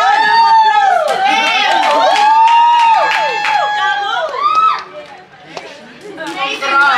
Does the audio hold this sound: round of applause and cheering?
yes